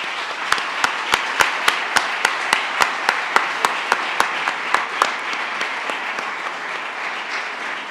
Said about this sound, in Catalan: et mereixes el nostre aplaudiment